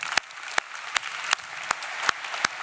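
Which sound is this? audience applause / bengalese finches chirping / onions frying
audience applause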